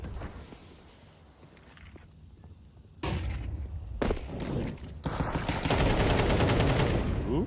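Desert Eagle pistol shots in a Counter-Strike esports match, with several sharp, loud broadband blasts amid game noise and a long dense burst near the end.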